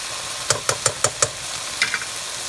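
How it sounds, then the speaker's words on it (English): Potatoes fry in a pan, with a short run of five sharp, evenly spaced clicks or taps near the start and a few softer ones later over a faint steady sizzle. "and now I'm going to fry them."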